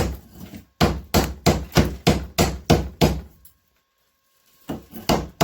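Hammer blows on flaky, rusty old steel resting on a mini anvil, seven sharp evenly spaced metallic strikes close by, then a brief silence before a few more hits resume.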